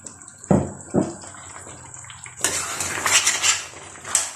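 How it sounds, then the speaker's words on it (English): Vegetable soup is stirred in a pot: two sharp utensil clanks against metal, then a wet sloshing, scraping stir that carries on close by. "Then you mix everything together gently to incorporate. Gently stir, stir, stir until everything is well mixed together."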